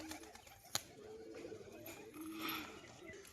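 White-green male pigeon cooing softly, a faint low throaty coo repeated against a busy background with people talking nearby and a sharp click partway through.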